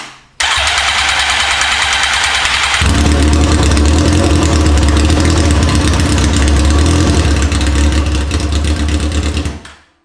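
A wrecked and rebuilt Suzuki GSX-R 1000 motorcycle engine cranks for a couple of seconds, catches and settles into a loud, close, steady idle, then cuts off.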